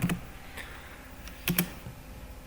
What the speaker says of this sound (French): Voilà, ici, copier, coller.